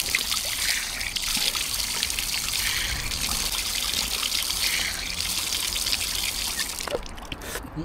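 Clean drinking water trickles steadily from a public tap spout in Japan, a continuous close splashing stream with no pauses, ending in a brief shuffle of handling.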